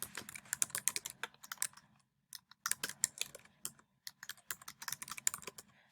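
Fingers tapping out a title on a Mac computer keyboard, two close bursts of brisk, uneven key clicks separated by a brief pause, with no voices.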